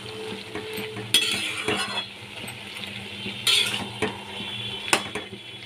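A spoon stirs hilsa fish heads through a sizzling pan of frying ash gourd, scraping and clinking against the metal in several distinct strokes over a steady low fry, close and clear with no voices.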